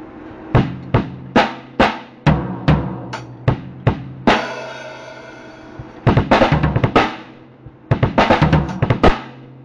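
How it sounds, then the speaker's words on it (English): A drum kit fill on a practice kit: a run of sharp, evenly spaced hits, then a ringing crash, then dense clusters of rapid double-kick, snare and hi-hat strokes played loud and close without talking. "after the double kick, you just hit the snare and the hi-hats or snare and the crash"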